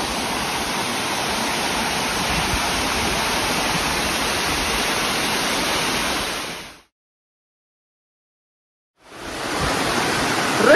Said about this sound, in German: Am Wasserfall ist es doch schön.